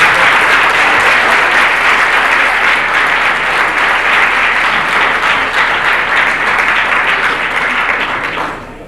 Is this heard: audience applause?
yes